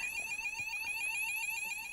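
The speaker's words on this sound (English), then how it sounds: "This is an alarm because we are near to the surveillance system hour." An electronic alarm at a surveillance facility sounds loud and continuous, a piercing pulsing tone that warbles rapidly and repeats steadily throughout, with no voices.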